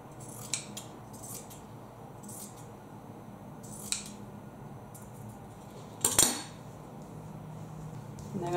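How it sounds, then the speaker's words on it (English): Scissors cutting two slits in a cotton T-shirt, a few faint sparse snips nearby followed by one sharper, louder cut and clatter, over a steady low room hum. "Before I start adding the grommets, I'm going to cut two slits"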